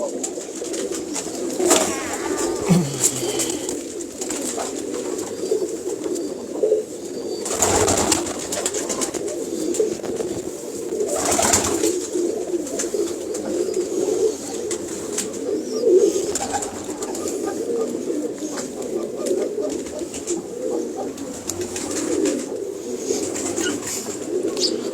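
Blue kamgar pigeons coo continuously from a loft, a dense, low murmuring chorus close by, with occasional louder calls and wing rustles and no speech.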